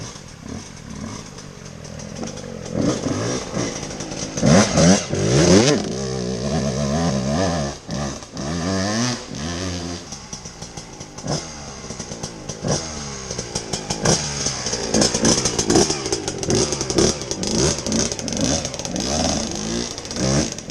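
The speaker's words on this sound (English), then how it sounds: "So I'm going to get the dirt bike and I'm going to go across, and then I'm going to see how it works." A dirt bike rides across a homemade bridge, its engine loud and close, revving and rising and falling in pitch with clattering over the crossing. No one talks.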